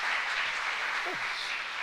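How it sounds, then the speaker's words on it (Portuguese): A church congregation claps together during a service, a brief dense patter of applause with a short voice sound heard faintly underneath. "Uma salva de palmas ao Senhor Jesus"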